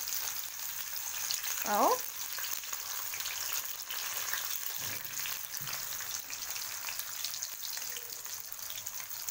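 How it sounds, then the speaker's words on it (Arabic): Tomatoes sautéing in ghee in a frying pan give a steady, even sizzle and crackle throughout, close up, with someone briefly speaking over it. "هي بس تشويحه بس كده مع السمنه"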